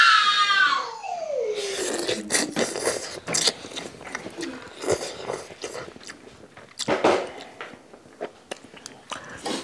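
Someone eats Malaysian Maggi and Indonesian Indomie instant noodles up close, with a run of slurping, chewing and crunchy bites and short breathy vocal sounds mixed in, starting after a brief high squeal.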